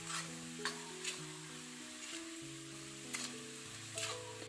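Whole spices tempered in hot oil in a pan over high flame for a steamed beef Kinna Pathiri, giving a steady close sizzle with a few sharper spits and crackles, no voices.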